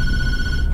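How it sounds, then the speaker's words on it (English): A mobile phone rings loudly nearby with a steady electronic ringtone tone held across the short moment, over low background rumble. "Oh my god, it's my phone. Now it's so loud."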